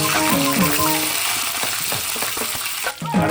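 Dried red chilies frying in hot oil, a close, crackling sizzle with bubbling pops and clinks of a utensil against the pan, no talking.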